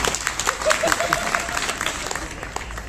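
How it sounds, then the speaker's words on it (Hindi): An audience at a comedy poetry show breaks into applause, a dense patter of many hands clapping at moderate loudness for the whole stretch, with no voices over it. "वाह एक बार बड़ी तालियां दो यार"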